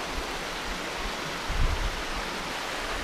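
A waterfall at Cachoeira São Miguel pours into its main pool, a steady, broadband rushing hiss heard from nearby without a break, with a brief low thump midway and no voices.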